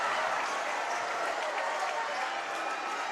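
Basketball crowd at a Troy vs Sidney boys high school game roaring steadily after a steal and slam dunk, a dense, continuous wash of cheering and applause throughout.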